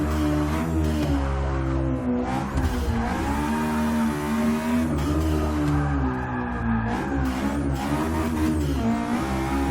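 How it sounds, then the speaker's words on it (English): A turbocharged Honda S2000 track build in the Forza 6 racing game screams near its redline, its loud, sustained engine note rising and falling steadily throughout with no talk. "Just redlining the shit out of this car"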